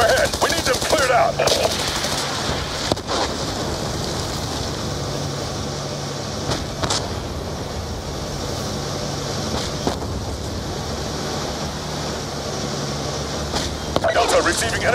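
Automatic gunfire and explosions in a Call of Duty: Black Ops 2 convoy battle against enemy tanks, with rapid continuous bursts and sharp loud cracks throughout while radio voices talk over the combat.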